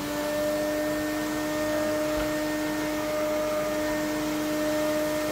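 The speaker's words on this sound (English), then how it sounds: "I need to put my Hoover on." A Hoover vacuum cleaner runs steadily and loudly nearby, a constant motor whine with a broad rushing roar that holds for the whole stretch.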